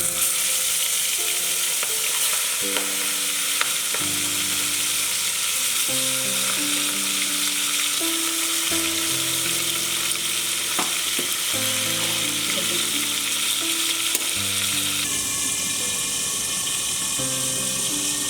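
Golda prawns sizzle in hot oil for a malai curry, a loud, continuous frying hiss that runs throughout with background music playing over it.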